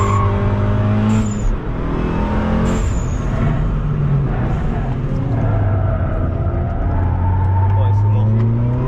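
A father's BMW car driving on a race track, its engine a loud, continuous drone that rises and falls in pitch as it speeds up and slows down.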